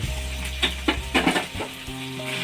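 Pepper chicken frying in a pan as it is stirred, a steady close sizzle broken by several scraping stir strokes, without any voices.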